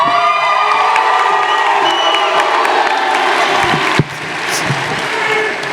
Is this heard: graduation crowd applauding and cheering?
yes